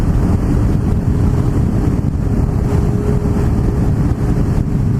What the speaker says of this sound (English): Oh, it's windy along here